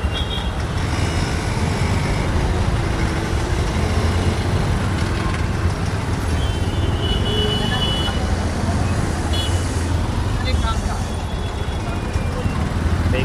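Busy Mumbai road traffic, a steady dense roar of trucks, cars and buses with scattered horn toots and faint beeps throughout, with no pauses in the noise.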